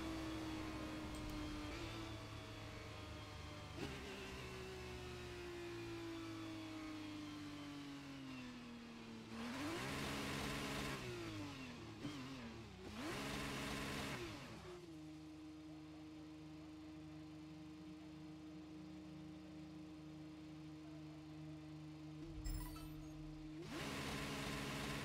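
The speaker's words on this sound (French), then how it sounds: "je vais vous laisser donc profiter de ce joli moteur et du départ." An F2 car engine at the race start in the racing game F1 23 hums with a gliding pitch, surges in two sharp revving bursts, then settles into a steady high drone.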